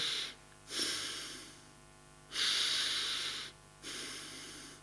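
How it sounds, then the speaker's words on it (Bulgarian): Audible nasal breathing demonstrated in a breathing exercise for diabetes: four slow, airy inhale and exhale rushes through the nose, each lasting about a second, separated by brief quiet pauses, close and fairly soft. "може да диша и така, че да усеща, да шуми през носа"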